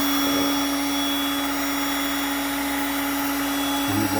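Heat gun running on UTV plastic, producing a steady, close airy roar with a constant motor whine, continuous throughout, with a brief knock near the end.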